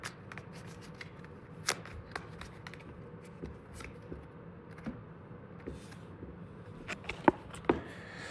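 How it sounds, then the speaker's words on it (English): Playing cards from a baseball card game being shuffled by hand, with soft riffling and a few sharper snaps and taps, quiet and close against a low background hum, with no talking. "let me just shuffle real quick"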